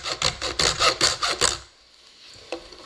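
Seven quick, even back-and-forth strokes of a hand saw cut through a puzzle piece, close and crisp, followed by a short quiet pause and one light tap.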